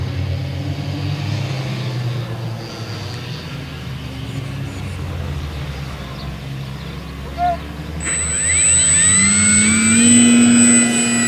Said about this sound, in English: Maiden flight of the FMS Cub.